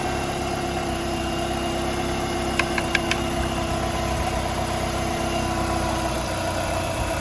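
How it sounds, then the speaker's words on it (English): A 2004 Dodge Neon's 2.0L engine idles steadily, a constant even hum with a faint regular pulse, close and sustained, with a few quick light ticks partway through. "the engine is on, it's started."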